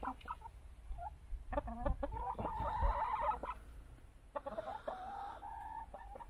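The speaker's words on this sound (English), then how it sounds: "I thought I'd give you a brief glimpse of our chickens" Backyard chickens clucking and murmuring nearby, a flock making scattered bursts of throaty calls, some longer drawn notes, with no talking.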